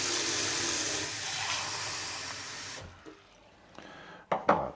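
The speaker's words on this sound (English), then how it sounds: "Basically what I do is just get a glass of water." Tap water runs steadily into a glass for close to three seconds, then stops, followed by a few faint clinks and soft handling sounds nearby.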